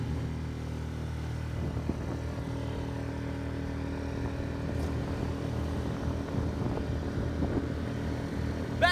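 A sailboat's engine running at full throttle, a steady low drone with a continuous hum and rumble that holds evenly throughout, up close, with no talk over it.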